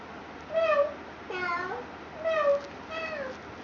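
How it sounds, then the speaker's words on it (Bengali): A cat meows four times in a row, each cry drawn out and clear, heard close in a quiet room. "ক্যাটের সাউন্ড"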